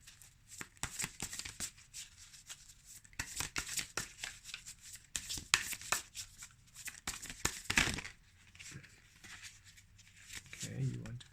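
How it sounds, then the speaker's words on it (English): Brand-new tarot cards being shuffled by hand, a run of quick riffling and sliding bursts that come and go near the microphone, with a short pause near the end. "So these cards are really, really new, so I'm still getting into the shuffling pattern with them."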